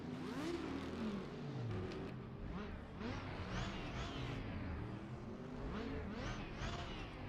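A Super Touring car engine in the RaceRoom racing game revs up and down repeatedly, its pitch rising and falling in quick sweeps at a steady, fairly quiet level, with no voices.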